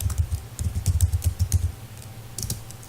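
Keys clatter on a computer keyboard in quick, uneven bursts of close typing, pausing briefly near the end before a final flurry.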